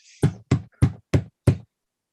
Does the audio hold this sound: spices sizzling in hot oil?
no